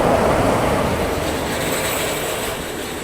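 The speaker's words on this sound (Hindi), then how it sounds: "ये मेरे ख्याल से पुणे अहमदाबाद सुपरफास्ट एक्सप्रेस जो है वो यहाँ पे आ रही है।" The Pune Ahmedabad Superfast Express arriving at a station, a loud steady rumble of rolling railcars and wheels on track with faint squeal, slowly easing in level.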